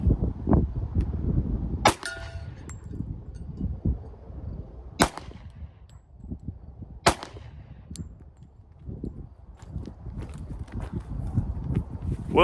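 A Ruger Blackhawk revolver fires .45 ACP semi-wadcutter rounds without a lube groove: three sharp, loud shots spaced a few seconds apart over low background rustling.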